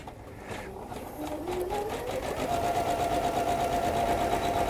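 A Janome 9850 embroidery machine stitching blue thread, a fast steady mechanical whirring and rapid needle rhythm that rises slightly in pitch and loudness as it runs continuously.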